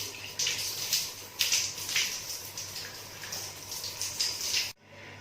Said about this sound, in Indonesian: Lalu kita putar keran dengan menggunakan siku. Kita basahi tangan